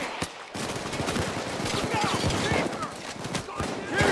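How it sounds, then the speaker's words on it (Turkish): Rapid, dense gunfire rattles almost nonstop through a firefight in the heist video game Payday 2, with loud overlapping shots and scattered sharp cracks under voices. "kim vuruyor? Sniper mı vuruyor?"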